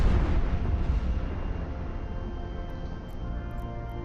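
A heavy explosion in EVE Online opens with a loud booming burst that settles into a long, deep, rumbling roar, with no voices over it.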